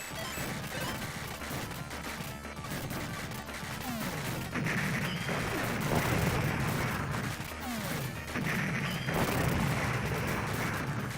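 Dense arcade shooter action from Raiden, with constant rapid gunfire, repeated blasts and crashing explosions layered over game music, loud and continuous throughout.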